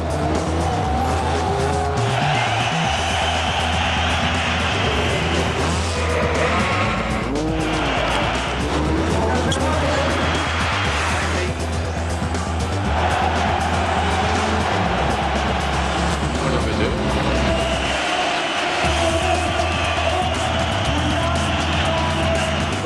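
WRC rally cars race on a 2.4-kilometre Super Special stage in 2005, engines roaring loud and close with tyre squeal and skids as cars pass, backed by a large stadium crowd.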